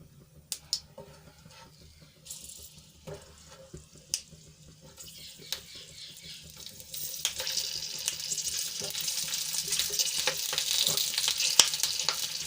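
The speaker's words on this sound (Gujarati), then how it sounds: "તળવા માટે આપણે મરચાં મૂકી દઈશું" Oil sizzles and crackles steadily as chillies fry with popped mustard seeds for Kathiyawadi stuffed chillies, growing louder and denser toward the end, with occasional clinks of a utensil against the pan.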